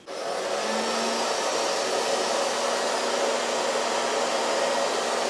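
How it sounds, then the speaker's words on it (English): A hair dryer blows with a steady, loud whooshing roar from start to finish, close by and with no voices. "you could blow the hair dryer into the fan and it would still come out cold"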